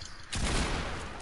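A bot firing in Fortnite: a sudden burst of gunfire crackles in and holds as a dense, fairly loud spray of shots for about a second.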